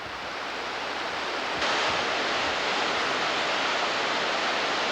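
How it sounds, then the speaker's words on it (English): Laurel Creek Falls, a 60-foot waterfall, roars in a steady, broad rush of falling water, growing slightly louder partway through, with no voices. "This is Laurel Creek Fall, 60-foot waterfall."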